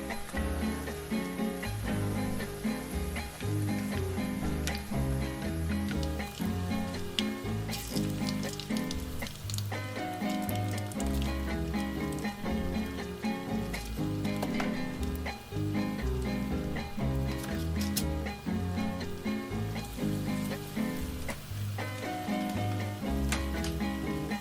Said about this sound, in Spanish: vamos a empezar a freír las tortillas a temperatura media